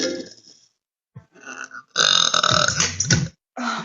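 A woman lets out a series of loud, drawn-out burps close to the mic, the longest rumbling for over a second, with short pauses between them and no talking.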